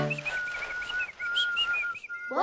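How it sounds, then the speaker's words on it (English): Cartoon characters whistle a bright, wavering tune while scooting up a hill, clear rising and falling notes in a short melodic run, ending on a quick upward whistle. "are now whistling and scooting up the side of a hill"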